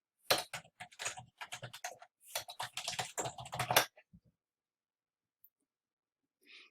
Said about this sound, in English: Let me just type that in real quick